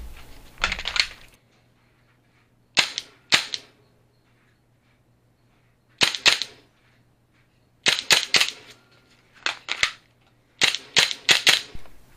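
Sharp, dry pops from a Cool Fire trainer pistol on a Point Blank shooting simulator, fired in quick pairs and clusters separated by pauses, close and loud against a faint steady hum.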